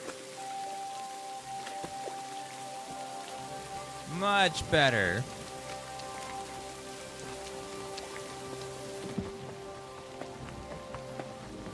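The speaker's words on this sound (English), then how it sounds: "It is raining." Steady rain falls in the medieval open-world game Kingdom Come Deliverance 2, a continuous even hiss of drops that lasts throughout, with a voice speaking briefly partway through.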